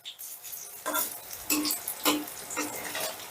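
Potato fritters fry in hot oil in a pan, a faint steady sizzle broken by several sharp crackling bursts at regular intervals, quiet and close with no voices.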